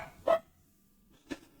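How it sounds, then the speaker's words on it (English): Two separate barks from a dog, near and moderately loud, spaced about a second apart with quiet in between. "You can probably hear the cave dogs barking."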